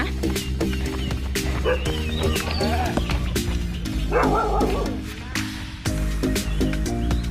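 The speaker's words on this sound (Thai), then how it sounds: "เจอหมามาเห่า" A dog barks repeatedly at a city fun-run event in Ayutthaya, a string of sharp yips over a steady background hum, with people talking in between.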